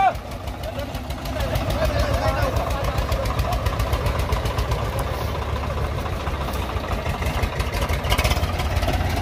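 A Swaraj 855 tractor engine runs at a tractor pulling contest, making a steady, rumbling, knocking throb. The sound is loud and continuous, with people talking over it.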